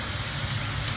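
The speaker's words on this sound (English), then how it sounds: "At this stage, I'm going to add the spices." Spices hitting frying onion in a hot pan make a dense, steady sizzle, close and loud for the whole short moment.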